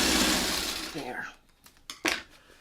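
A sewing machine stitches fabric in a short whirring run that winds down within about a second, followed by a couple of small clicks and taps as it stops.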